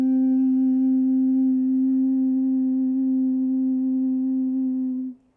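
Quiet, steady hum on one low pitch during a breathing exercise for vocal work, held evenly for about five seconds before cutting off, alone with no talking.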